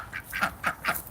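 Several ducks quack in quick succession, a handful of nasal calls spaced across a second, moderately loud and fairly close, with no talking over them.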